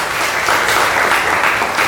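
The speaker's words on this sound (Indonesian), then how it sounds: "tepuk tangan dulu untuk Surya." A classroom of students claps together, a short burst of dense, loud applause that holds steady throughout with no talk over it.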